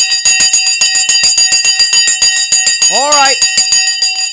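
Closing bell marking after-hours trading on a Virgin Galactic investing stream rings continuously and loudly in rapid repeated strikes, with a brief voice breaking in near the end.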